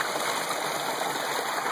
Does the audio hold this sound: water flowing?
yes